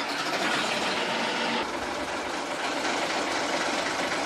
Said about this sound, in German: Dann lassen wir den Motor an.